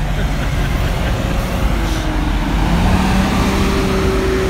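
Dense heavy traffic with buses circles the Arc de Triomphe roundabout in Paris, a steady loud roar of engines and tyres that never lets up, with no voices.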